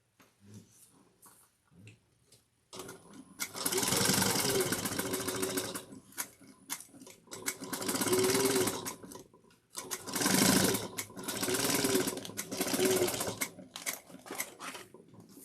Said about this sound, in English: All right, and now we're going to sew across.